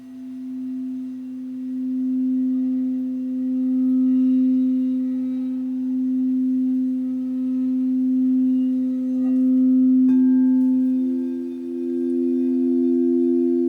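A singing bowl rings in a sustained low hum with slow pulsing swells, and a second bowl is struck partway through, blending into the drone.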